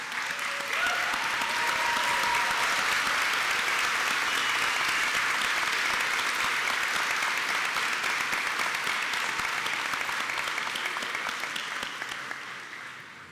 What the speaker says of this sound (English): please stand and give your supporters a round of applause